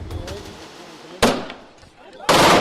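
Gunshot headshot in a movie scene playing on TV: two sudden, loud, broadband bangs about a second apart, each with a short noisy tail, over a low background murmur.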